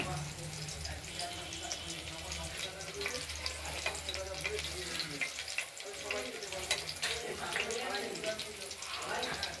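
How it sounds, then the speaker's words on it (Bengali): Steady, crackling sizzle of batter-coated bakful flowers frying in hot oil close by, continuing throughout while someone talks over it. "একা হাতে বকফুল ভাজা করছি"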